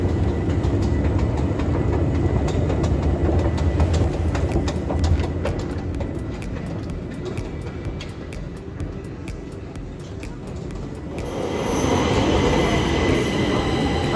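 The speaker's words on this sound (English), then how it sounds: "Finally, our tram has arrived" A tram pulls into a Stockholm station, its wheels rumbling and squealing on the rails with a steady rolling roar that eases as it slows to a stop.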